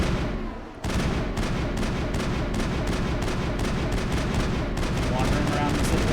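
Rapid gunfire in the Mass Effect video game, likely a shotgun, dense repeated blasts in quick succession after a short lull, loud and close and nearly continuous, with a voice faintly beneath.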